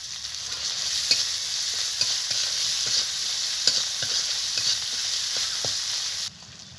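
Turmeric and chopped tomato fry with spices in a pan, a steady bright sizzle overlaid by regular scraping clicks of a spatula stirring, then the sizzle drops away suddenly near the end.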